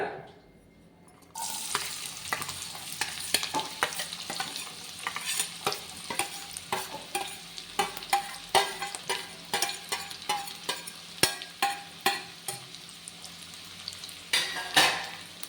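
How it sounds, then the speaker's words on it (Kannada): Onions fry in ghee for street-style pav bhaji, a steady close sizzle broken by repeated scraping stirs and spoon clinks against the pan, starting after a brief quiet moment and continuing throughout. "ಸ್ವಲ್ಪ ಕಲರ್ ಚೇಂಜ್ ಆಗೋವರೆಗೂ ಫ್ರೈ ಮಾಡ್ಕೊಳ್ಳೋಣ"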